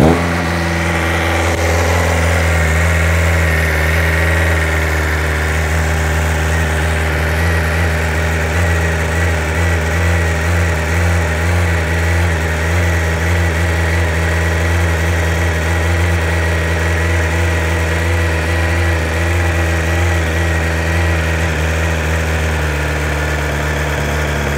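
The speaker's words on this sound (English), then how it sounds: "Same familiar S1000 sound at startup." A 2021 BMW M 1000 RR engine fires up and settles into a fast, high idle, a loud continuous buzzing drone with steady vibration, heard close up with no talking.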